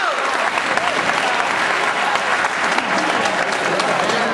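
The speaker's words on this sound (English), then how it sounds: "Clap, clap." A crowd at a Big XII roll call claps steadily and loudly, a dense continuous round of applause close by, with voices mixed in.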